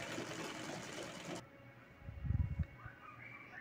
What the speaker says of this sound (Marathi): इथे मी शिलाई करून घेत आहे